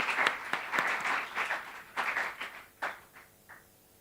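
Audience applause for student debaters at a schools debate final, a fairly loud burst of clapping with uneven surges that thins out and fades toward the end.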